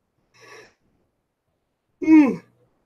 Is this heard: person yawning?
yes